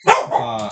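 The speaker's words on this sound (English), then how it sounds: "excuse my dog" A single dog's bark rises into a drawn-out, whining yelp, close and loud, lasting under a second with no talk over it.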